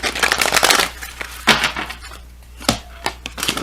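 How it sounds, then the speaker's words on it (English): Tarot cards are shuffled up close in quick papery riffles and flutters, followed by a few separate slaps and taps as the deck is handled, with no talking. "Shuffle here twice"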